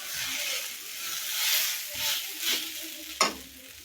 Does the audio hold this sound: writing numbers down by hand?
no